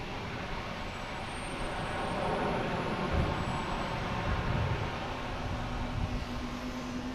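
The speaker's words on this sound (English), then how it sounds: "We got Delta coming in on 4 left. Coming in from JFK." A Delta airliner arriving from JFK on runway 4 Left at Boston Logan, a steady broadband jet roar that swells slightly mid-way, heard from a distance over outdoor airport background.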